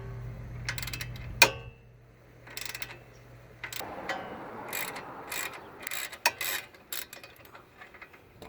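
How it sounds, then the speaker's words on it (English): An 18mm socket and breaker bar work a wheel-knuckle bolt on a 2014 Chevy Impala during a wheel bearing job, giving a sharp metallic clank followed by a series of clicking ratchet-like taps and scraping mechanical sounds, close and moderate. "You're gonna need an 18mm wrench, an 18mm socket, and the breaker bar that we can break it easy."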